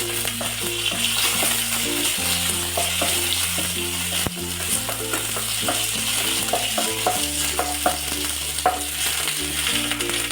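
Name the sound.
garlic and curry leaves sautéing in a pan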